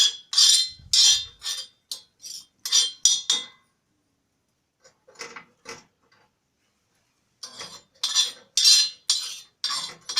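Alum roasting on a flat iron griddle, stirred and scraped in bursts of rapid, bright metallic rasping; a quiet pause in the middle, then the brisk scraping resumes close and loud.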